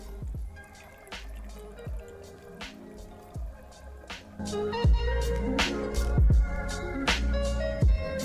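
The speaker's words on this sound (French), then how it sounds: "Ensuite, on va rajouter donc le kéfir." Kefir poured into pineapple juice gives a run of wet drips, splashes and glugging pours, irregular and close, growing fuller and louder in the second half.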